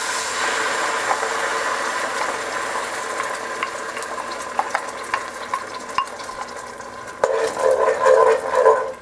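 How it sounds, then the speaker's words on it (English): Tomato puree hitting hot oil in a pan for chicken biryani, a continuous frying hiss with scattered pops and crackles that swells into a louder, bubbling splatter near the end. "I'm going to put that in there, and be careful because it's going to splatter"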